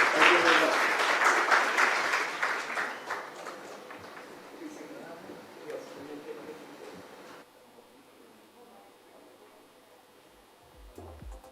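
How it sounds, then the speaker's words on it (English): Audience applause at the Arctic Circle India Forum 2025, a dense burst of clapping that is loudest at the start and fades over several seconds into quiet room tone. "ladies and gentlemen, please applaud both the gentlemen who made this possible"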